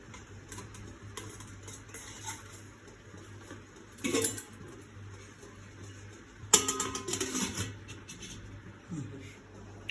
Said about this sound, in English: I am going to keep this tray for steaming.